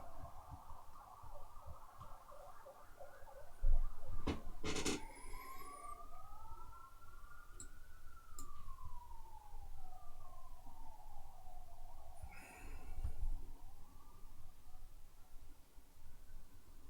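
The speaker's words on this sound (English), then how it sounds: "Ambulance is coming for me." An ambulance siren wails with a slow rising and falling tone, at a moderate distance, behind quiet background sounds and a few sharp knocks.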